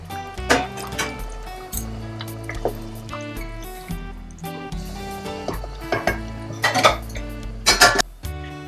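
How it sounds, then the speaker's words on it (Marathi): Hot water is poured into two cups of rice in a metal pot for chicken pulao, with liquid splashing among sharp clanks of pots and utensils. "आणि ह्यात टाकायचं आता गरम पाणी."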